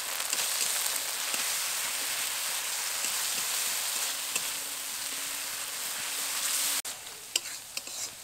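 A paste of melon seeds, cashews and raisins frying in a pan with ginger, a loud, dense, continuous sizzle like heavy rain that drops abruptly near the end and is followed by a few light clicks.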